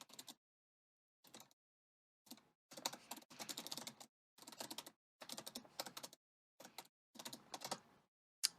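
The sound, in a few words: typing on keyboard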